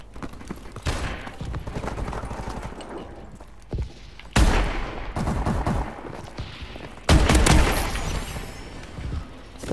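Gunfire in the video game Advanced Warfare comes in repeated automatic bursts, with loud heavy volleys and a few booms around the middle and the end.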